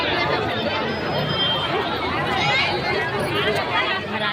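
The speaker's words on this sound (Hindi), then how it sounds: "आगे हो देखे हो बहुत ज़्यादा ही भीड़ है वहाँ" Dense crowd chatter around busy service counters, many overlapping voices forming a loud, continuous babble close by with no single voice standing out.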